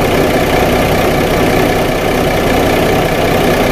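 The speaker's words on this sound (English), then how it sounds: "this is just sitting here idling" A 2014 Mercedes-Benz C300 engine idles roughly, steadily and loudly, a constant low rumble with a faint knocking texture and no voices; the catalytic converter on bank one is weak.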